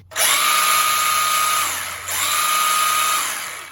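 The motor of a Feiyue FY-02 electric scooter, switched to high-speed mode, whines loudly and steadily. It spins up at the start, dips briefly, then rises again for a second sustained run, with no talking.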